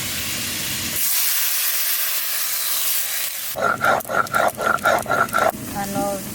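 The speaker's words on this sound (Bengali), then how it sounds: "আলুটা একটু বেশ ভাজা ভাজা করে নিলাম এবার জল দিয়ে দেবো" Water is poured onto potatoes frying in a pan, setting off a loud, sustained steam hiss for a few seconds, followed by a run of rhythmic, pulsing noises nearby.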